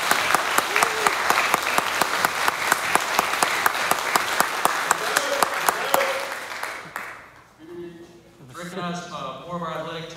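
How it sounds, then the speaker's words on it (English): An audience gives a round of applause for a coach at a school event, with loud steady clapping and a few sharp claps standing out, fading around seven seconds before a voice begins to speak. "The man deserves a round of applause."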